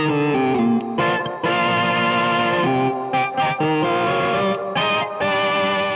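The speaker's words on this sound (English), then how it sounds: "you would get this by running the sound through a crunch pedal that sounds like this" A sustained guitar organ chord run through an overdrive crunch pedal, gritty and overdriven, changing chords in rhythmic bursts with short gaps, loud and upfront with no talking.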